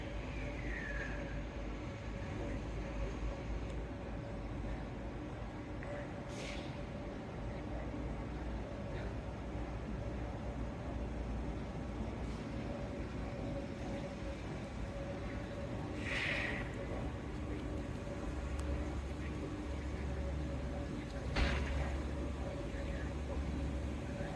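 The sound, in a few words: four-car shuttle train arriving at Victoria Park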